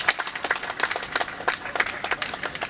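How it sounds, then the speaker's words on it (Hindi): An audience at a Hindi poetry recital (kavi sammelan) claps in a steady, brisk burst of applause, fairly close and loud, with no voice over it. "ताली बजाओ।"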